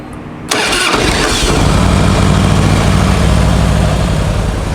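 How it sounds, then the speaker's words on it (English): A 2006 Harley-Davidson FLSTN Deluxe V-twin fires up after a brief quiet moment, catching abruptly and settling into a loud, steady rumbling idle that continues close up. "We're going to start the engine."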